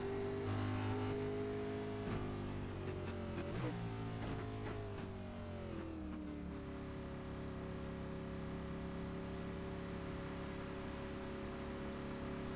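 A race car in a racing video game rolls down pit road at Homestead, its engine a steady droning hum that dips in pitch and then holds a constant idle-like tone, moderately loud and alone.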